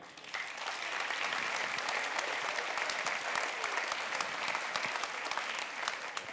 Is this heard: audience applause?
yes